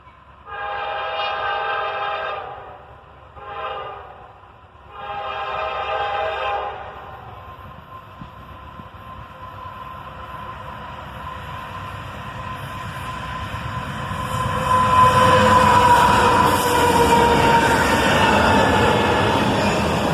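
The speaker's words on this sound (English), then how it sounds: "About half an hour later, the next southbound train arrived." A freight train horn sounds in several long blasts, then the low rumble of the passing southbound train, led by AC44CW and ES44DC locomotives, builds and rolls on steadily, loud and close.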